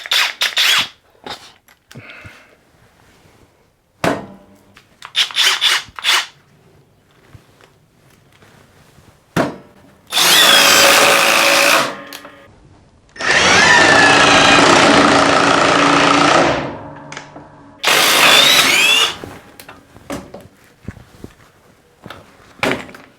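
A Hercules 20V brushless or Flex 24V cordless driver whirs loudly in three separate bursts driving a 3.5-inch deck screw, the middle one longest. Quieter knocks and handling sounds fall in the gaps.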